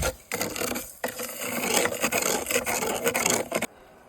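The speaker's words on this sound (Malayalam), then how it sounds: "പഞ്ചസാര നല്ല രീതിയിൽ മെൽറ്റ് ആകുന്നവരെ നല്ല രീതിയിൽ ഇളക്കി കൊടുക്കണം" Melting sugar stirred in a pan for homemade cola syrup, a continuous rough rubbing scrape of the utensil against the pan with short pauses, close and fairly loud, stopping abruptly near the end.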